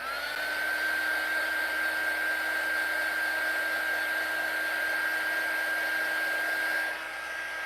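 A hair dryer blows steadily on a painted Dollar Tree turntable during a makeover, a loud continuous whine with a high tone, running alone without pause and cutting off near the end.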